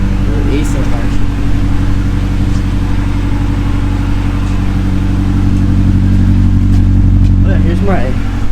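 A Honda Civic engine idles steadily after starting, a loud, close, even low rumble throughout, with a person talking over it.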